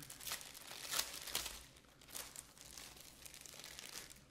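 Crisp crinkling and crumpling of packaging as a new BMW VANOS gasket is unboxed by hand, close and fairly quiet, in irregular bursts with no talking.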